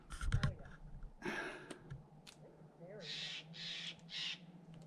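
A bird calls on a trail near Palm Springs, California, giving a few faint, short calls against quiet outdoor background, with scattered soft clicks and brief hushed voices.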